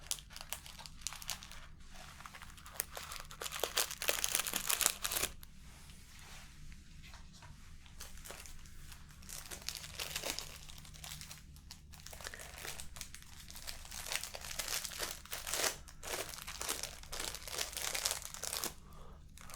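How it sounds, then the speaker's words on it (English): A plastic bag crinkles and rustles up close in repeated bursts as iron filings are drawn toward a magnet, with a faint low hum underneath and brief quieter gaps. "you'll hear the plastic bag crinkle whenever iron filings are coming towards the magnet"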